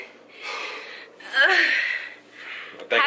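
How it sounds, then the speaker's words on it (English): Heavy, gasping breaths from two people winded after dancing, one of them heavily pregnant, a run of loud close exhalations rising and falling over a few seconds. "We're both breathing hard."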